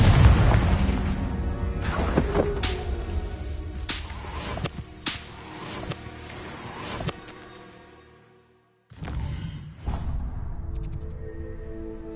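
Confringo fire spell explosions in the Hogwarts Legacy video game land as several loud booming blasts with crackling tails, then a brief silence before another burst near the end.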